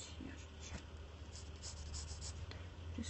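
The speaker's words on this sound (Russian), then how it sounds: "Рисую я твердым карандашом." A hard pencil scratches across paper at close range in soft, irregular strokes, steady and quiet under a low background hum.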